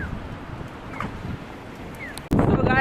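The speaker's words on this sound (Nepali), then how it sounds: "सो गाइज हावा लास्टै लागेको छ" Strong wind buffets the microphone outdoors in Osaka, a broad continuous roar that swells sharply louder near the end, with faint voices underneath.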